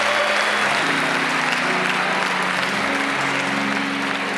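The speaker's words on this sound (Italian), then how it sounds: "Un applauso a Enrico Bessolo." An audience applauds steadily and fairly close at an event in Ollolai, a dense continuous clatter of clapping hands lasting throughout, with faint voices mixed in.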